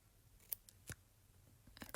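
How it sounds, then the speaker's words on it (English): Scissors snip through nail forms for a builder-gel manicure, making a few quiet, crisp clicks and snips spaced irregularly, close up and alone. "Grab your scissors and we're just going to do little,"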